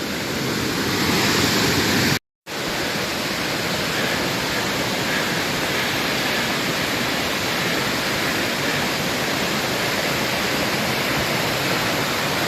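Waterfall at Ricketts Glen State Park roaring as a loud, dense, continuous rush of falling water close by, broken by one short dropout early on, with no talk.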